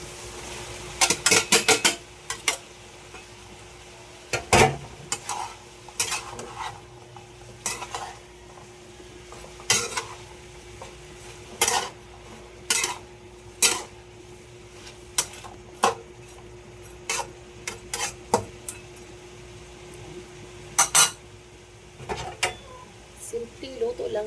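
Cabbage and chicken breast being stir-fried for pancit canton, with a soft sizzle under repeated sharp clanks of a utensil scraping and tapping the pan, and a person talking in between.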